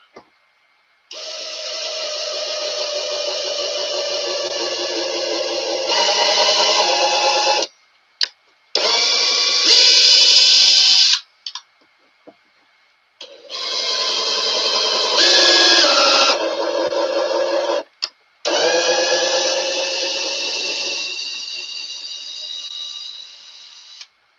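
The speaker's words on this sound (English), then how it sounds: "these with a 3/32 drill bit, and we're tapping for 632 bolts." A power tool whirs steadily in long runs while tapping threads for 6-32 bolts in holes drilled with a 3/32 bit, four sustained motor passes broken by short pauses and brief clicks.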